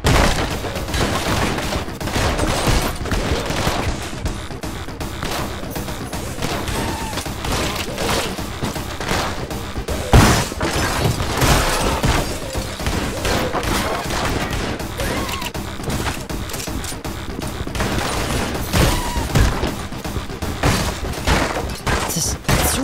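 Shotgun blasts in the video game Anger Foot, repeated booming shots and thuds in rapid succession amid chaotic combat effects, loud and dense across the whole stretch with no speech.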